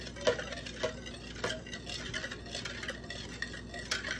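A spoon scrapes and taps around a bowl while stirring cake batter, giving a steady run of soft clinks and swishes with sharper knocks now and then, close by and with no talk over it.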